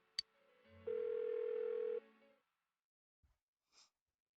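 An unanswered telephone rings in a video game as a single sustained electronic tone lasting about a second, followed by a few faint clicks and a brief soft noise, with no speech.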